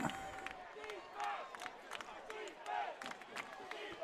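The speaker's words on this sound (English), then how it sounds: "fans on their feet here at Berks Catholic. Cheering for that defense" Fans on their feet at a Friday night high school football game at Berks Catholic against Wyomissing, cheering the defense as a swelling crowd roar in the background, with someone talking over it.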